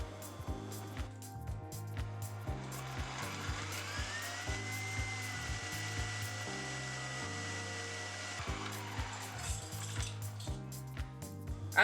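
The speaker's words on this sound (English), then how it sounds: "We're going to beat this on high speed before we add our stabilizer." An electric mixer beats on high speed in a cold mixing bowl, a steady close motor whine with rhythmic beater knocks against the bowl, fairly quiet overall and without speech.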